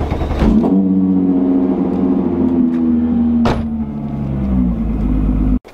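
A car, treated with a new axle and bushings, is being pulled out for a test drive, its engine humming steadily and close by for several seconds with a brief louder rev midway, then cutting off.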